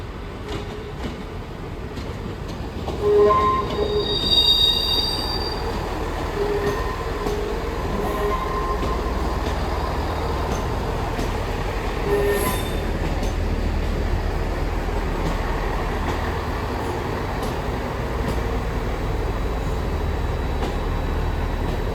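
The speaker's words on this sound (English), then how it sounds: "departing now as a LNER service off to Aberdeen" Class 158 diesel unit 158 842 pulls out of Newcastle station on an LNER service to Aberdeen, a steady close rumble of engine and wheels with occasional metallic squeals and clicks as it gets under way.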